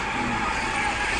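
A brief, steady rumble of a small amusement park train rolling along, with a constant mechanical drone and no clear voices.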